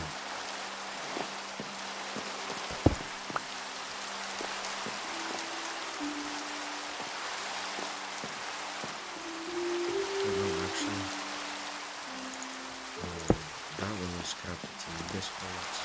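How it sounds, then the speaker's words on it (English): Steady soft rain hiss in Minecraft fills the scene at a moderate level, with occasional clicks and low tonal game sounds underneath. "I wish it wasn't raining over in this zone though."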